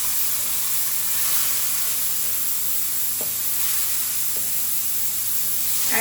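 Tomatoes hit hot oil in a pan for a pumpkin curry with black lentils, giving a steady loud sizzle and hiss that runs throughout, with a couple of faint utensil clicks.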